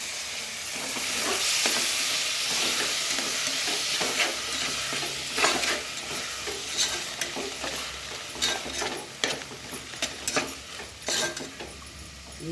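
Tomatoes fry in a pan for mushroom biryani, giving a steady close sizzle with intermittent stirring scrapes and light clinks of a utensil against the pan.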